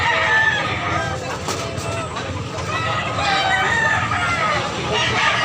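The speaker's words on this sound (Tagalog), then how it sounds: "Gandang mga manok." Chickens and roosters at a busy Cebu poultry market in Tabunok, Talisay, with crowing and clucking scattered through a constant crowd din and talking voices.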